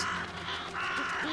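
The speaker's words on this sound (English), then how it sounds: "Crows." Crows cawing in the video game The Vanishing of Ethan Carter: a couple of harsh, raspy caws close by, filling a short moment without speech.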